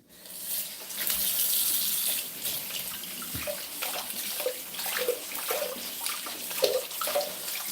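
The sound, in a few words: water running from tap while scrubbing carrots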